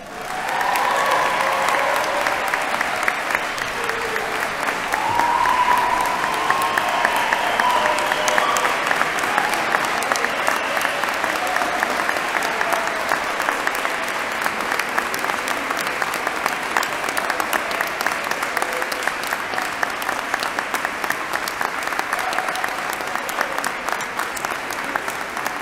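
A large audience at a university presidential installation ceremony for Caldwell University's President Matthew Whelan gives sustained, loud applause that stays steady and dense for the whole stretch, with no talk breaking through.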